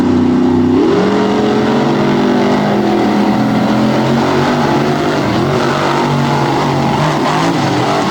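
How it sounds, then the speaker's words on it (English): Drag racing cars roar at full throttle during a semifinal round at Hagerstown, a loud sustained engine howl with a pitch shift early on, continuing steadily without talk. "Look at the airborne launch on the finish line for Vonders."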